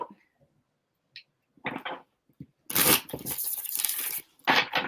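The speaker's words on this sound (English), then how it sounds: "Get one more shuffle in." A deck of playing cards being shuffled at a live card reading, with brief riffling bursts, some soft handling noises between them and a longer, louder riffle near the end, close by with no talk.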